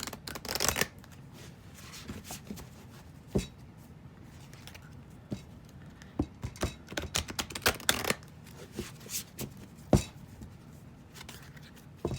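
Tarot cards shuffled by hand, a run of soft riffling flutters and crisp taps in an uneven rhythm, close and fairly quiet with no talking.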